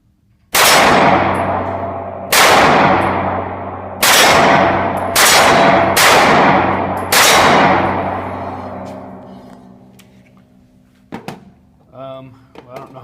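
Six loud, close pistol shots from a Glock 43 crack out one at a time at uneven intervals of about one to two seconds, each ringing out with a long decaying echo, followed by faint metallic clatter.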